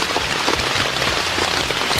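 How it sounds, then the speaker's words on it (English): Heavy rain and strong wind lash a campsite tent during a night storm, a dense, loud, steady roar of drumming drops with no voices. "A sudden shift in weather brings heavy rain and powerful winds, turning the night into a full-blown storm."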